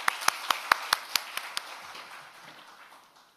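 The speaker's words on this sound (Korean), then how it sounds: "모두 박수로 맞이해 주시기 바랍니다" A forum audience at a distributed-energy event welcomes a ministry official with applause: about eight sharp, distinct handclaps in the first second and a half, then a soft, fading patter of clapping.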